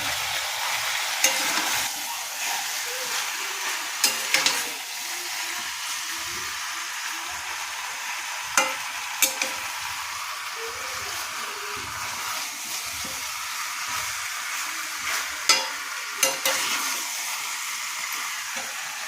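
Chicken curry with potato, tomato and homemade garam masala frying in a pan, a soft steady sizzle broken by occasional scraping clinks of a spoon stirring, close and fairly quiet with no talking.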